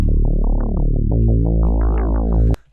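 A gliding neurofunk synth bass from the Vital synthesizer, with a metallic, wobbling FM timbre, its tone sweeping up and down over sustained low notes, loud and alone, stopping abruptly.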